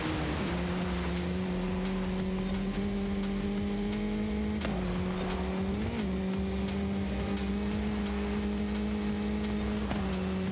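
A race car's engine in Forza drones steadily at a held rev range, its pitch rising and dipping slightly at a few points while the loud continuous whine fills the whole stretch.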